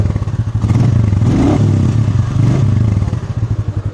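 A Royal Enfield Meteor 350 motorcycle engine runs close by with a steady, loud thumping pulse and faint mechanical clatter, heard alone with no voices.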